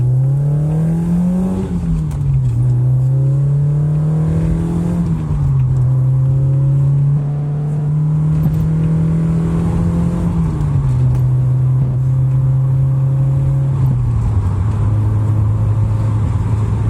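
A 1985 Toyota MR2's engine drones steadily with gear changes and revving, the cabin rumbling and rattling over an uneven road surface throughout.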